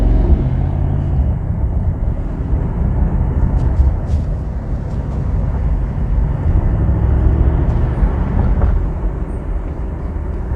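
Mercedes-AMG SL 63 (2022) exhaust in comfort mode with the exhaust button activated, heard as a steady, loud engine drone while driving at night, with no speech.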